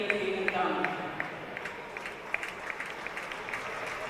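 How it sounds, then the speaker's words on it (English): Applause from the crowd at the World Ball Hockey Championship opening ceremony, a fairly quiet wash of clapping that swells at first and then settles into a steady patter while a voice speaks over it. "Large round of applause there for Miss Claudia Nessier."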